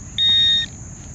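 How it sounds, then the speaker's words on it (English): A metal detector pinpointer emits one clear high-pitched electronic beep lasting about half a second, close and distinct over quiet outdoor background. "This is why I'm having trouble with the pinpointer."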